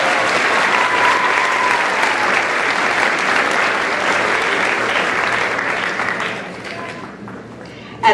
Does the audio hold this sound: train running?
no